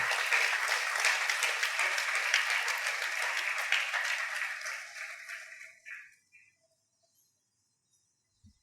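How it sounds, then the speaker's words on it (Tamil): An audience in a discourse hall gives a long, loud round of applause for a sponsoring family, the clapping holding steady before thinning out and fading to silence. "பெரிய கரகோஷம் கொடுங்கவா."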